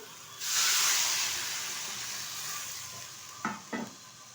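Water poured into a sizzling potato and eggplant masala sets off a loud, close hiss of steam that fades slowly, then two short stirring scrapes follow.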